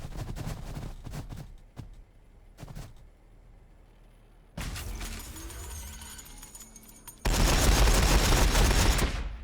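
Units trade gunfire in a Warhammer 40,000 video game battle between Blood Angels and Orks, starting with scattered sharp shots, then a sustained rattling volley, and finally a loud, dense fusillade.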